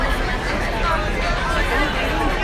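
Dense crowd chatter fills a busy Universal Orlando CityWalk, a steady loud babble of many voices close around with no single voice standing out.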